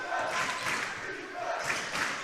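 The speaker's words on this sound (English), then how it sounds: "Crowd really getting involved here" Crowd noise at a boys varsity high school basketball game between Shanley and Grand Forks Central, a steady, loud roar of cheering and shouting voices filling the gym throughout, swelling in waves.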